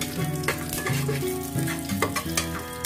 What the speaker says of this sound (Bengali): এখন এই মশলাগুলোকে লো ফ্লেমে 30 সেকেন্ড ফ্রাই করে নেব।